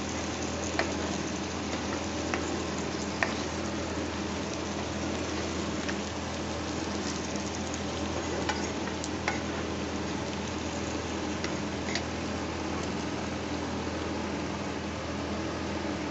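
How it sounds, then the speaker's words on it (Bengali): Rice tossed into a pot with onions fries with a steady, dense sizzle, like light rain, holding at an even level throughout with a few faint clicks and no talking. "চালটা আমি ফেলে দিলাম পেঁয়াজের সাথে এটা ভাজাও হয়ে যাবে"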